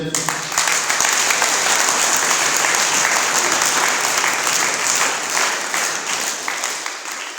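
A church congregation at a priestly anniversary celebration in Thiès breaks into sustained, dense applause, steady and loud throughout before tapering slightly at the end.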